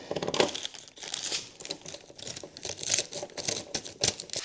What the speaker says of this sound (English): pull the film off the edges just a hair